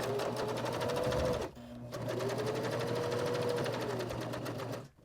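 A sewing machine runs steadily at close range, stitching a narrow seam around a pocket on a reversible placemat, pausing briefly once before the fast, even hum resumes and then stopping.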